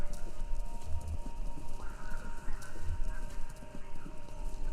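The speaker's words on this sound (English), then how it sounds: "Sounds like horses. Horses running? A race?" Horses running in the video game Kentucky Route Zero, with steady clip-clop hoofbeats under a constant hum of noise, moderately loud and continuous, with no talking.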